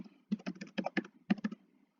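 Someone types quickly and at random on a computer keyboard, a close, crisp run of uneven key clicks lasting about a second and a half, with nothing else audible.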